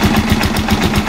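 A tricycle motorcycle engine running on 10W-40 oil idles with a steady, close mid-low rumble and rhythmic pulsing throughout, with no talk over it.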